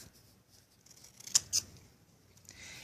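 Scissors snipping a strip of water-slide nail wrap into a square: two crisp, close cuts a fraction of a second apart in a quiet room, a faint rustle after, no talking.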